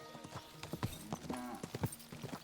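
Horse hooves clip-clop in rapid, uneven beats in Kingdom Come: Deliverance II, close and moderately loud. The rhythm suggests a walking or trotting horse, with faint background ambience underneath.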